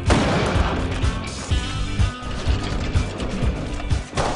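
Rapid gunfire crackles in quick bursts, loud and dense, with sharp repeated shots layered over a noisy, mechanical background.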